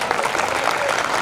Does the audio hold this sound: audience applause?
yes